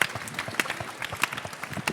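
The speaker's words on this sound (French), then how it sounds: "Je voudrais qu'on applaudisse le public." Audience applause at a live French science quiz show, a short burst of scattered, uneven clapping with sharp individual claps standing out, heard alone without voices.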